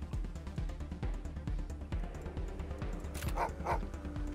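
A dog in Wasteland 3 barks repeatedly in a steady rhythm, fairly faint beneath game ambience, with a couple of sharper yips near the end.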